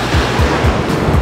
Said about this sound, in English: Now these are the ferry waves I was telling you about.